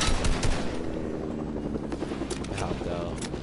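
A helicopter in the video game Fortnite whirs with a dense, continuous rotor roar while rapid gunfire bursts crackle over it, all loud and close.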